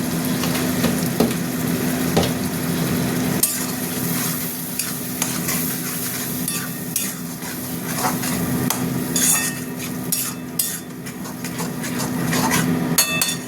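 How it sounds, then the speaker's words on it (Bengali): A spice paste of ginger, garlic, chili, turmeric, cumin, coriander and salt sizzles steadily in hot oil while a spoon scrapes and knocks against the pan in repeated close, clattering strokes. "মশলাটা কষা হোক।"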